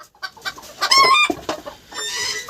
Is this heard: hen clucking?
yes